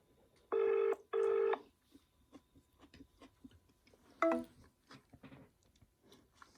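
A phone call from a car goes out as two loud ringback tones, then the line is hung up with a brief disconnect beep, followed by faint ticking and soft background noises.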